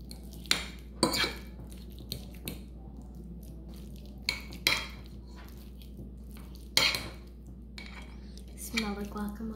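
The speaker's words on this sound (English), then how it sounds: "I'm gonna start mushing it up with a fork." Guacamole mashed with a fork in a bowl, a series of sharp metal clinks and taps against the dish at an uneven pace, close and fairly clear over a low steady hum.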